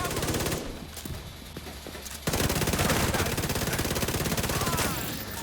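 Rapid automatic gunfire rattles in The Division 2 video game, a dense stream of shots that thins briefly and then returns louder and steadier, with faint voices beneath.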